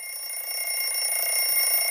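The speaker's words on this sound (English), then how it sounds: "An alarm goes off" An alarm clock going off in a bedroom, a continuous high ringing tone that holds steady and fairly loud throughout, with no voices.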